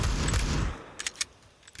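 A Mag 10 shotgun fires in Counter-Strike during a pro match on Mirage, a heavy blast and low rumble up front followed by three or four sharper, quicker shots.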